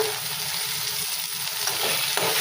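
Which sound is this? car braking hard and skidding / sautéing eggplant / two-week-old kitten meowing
sautéing eggplant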